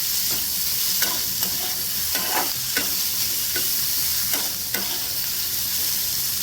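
Peas, carrots and other vegetables sauté in hot oil in a pan for vegetable Maggi noodles, a steady close sizzle broken by several scraping stirs of a spoon, with no voices.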